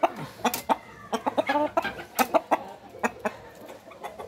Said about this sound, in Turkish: Horoz bu.